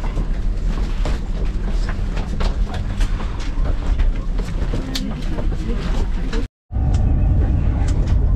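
A RENFE AVE high-speed train running from Madrid to Barcelona, heard from inside as a loud, steady rumble with rattles and clicks, broken by a brief silent gap near the end before the rumble resumes.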